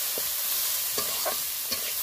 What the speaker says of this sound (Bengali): সামান্য হলুদ আর সামান্য পরিমাণে লবণ দিয়ে ভেজে নেব বিনস গাজর